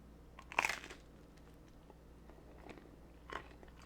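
A bite into grilled cheese sandwich dipped in tomato soup, one close crunchy bite followed by quiet chewing and a second softer crunch, faint and alone.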